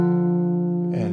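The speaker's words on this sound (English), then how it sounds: "so the minor third would sound like this." A minor third interval on guitar, two notes ringing together as a steady, clear sustained tone, close and alone, before a brief scrape at the end.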